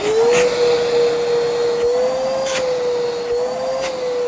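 An old vacuum cleaner with a weak motor and a clogged intake runs steadily at close range, giving a thin whine over a rough airy rush with small wavers in pitch.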